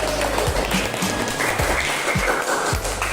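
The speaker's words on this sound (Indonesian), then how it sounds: "Kalau seperti itu kita berikan tepuk tangan." A classroom of students clapping after a lesson, scattered and uneven hand claps with some low thumps, moderately loud and continuous for a few seconds with no talk.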